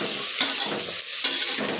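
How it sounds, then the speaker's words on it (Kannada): Loud, steady sizzling of hot oil with spices frying for a tempering, with chana dal, a continuous crackling hiss with brief stirring scrapes, close up and with no voices. "ಒಗ್ಗರಣೆ ಹಾಕ್ತಾ ಇದ್ದೀನಿ"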